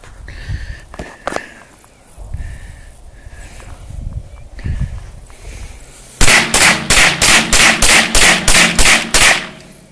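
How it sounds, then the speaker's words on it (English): A Mossberg tactical .22 rifle fires a rapid string of about a dozen sharp, loud cracks at a steady pace outdoors, following a quieter stretch of ambient noise and faint handling sounds. "The wife's gonna try her luck at the 22 Mossberg."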